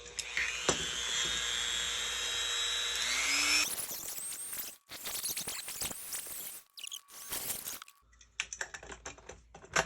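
A rotary tool cuts parts off a Nerf Ultra One blaster, a close high-pitched whine that rises in pitch and then gives way to choppy grinding and scraping bursts with short gaps.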